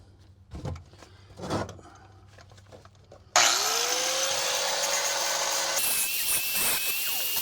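A power grinder starts abruptly partway through, cutting at a car body mount on an Avenger GT, running as a loud, steady whine with a shifting pitch after a few quieter knocks and handling sounds.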